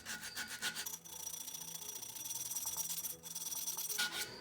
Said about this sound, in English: Sanding off the rest of this paint.